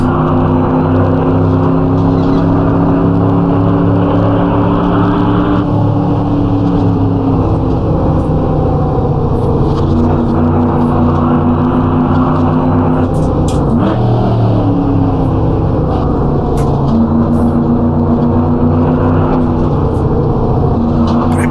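A race car engine in the Assetto Corsa video game runs loud and continuous throughout, its pitch climbing steadily and dropping at several gear shifts, with no voices.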